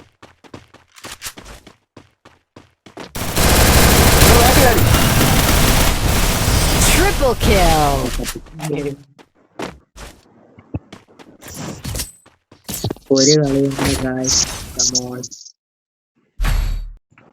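Bursts of gunfire in the game Free Fire, a long sustained volley followed by scattered shots and clatter, with a voice talking briefly in between.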